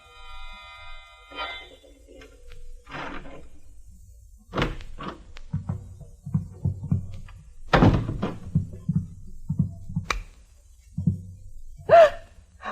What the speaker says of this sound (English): The sound of a key in the lock of the door.